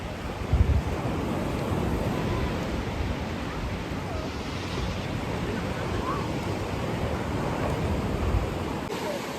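Sea waves at Ladghar beach, a steady broad wash of surf with low rumble and wind buffeting the microphone, continuous throughout with faint voices in the background.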